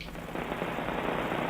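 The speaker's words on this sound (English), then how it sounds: "Raining here in Central California this evening." Steady evening rain in Central California, a dense, even hiss of drops on surfaces, close and continuous with no voices.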